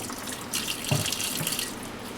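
Tap water runs over a soapy air filter from a Makita gas saw, a steady close splashing rush with a brief knock of handling partway through.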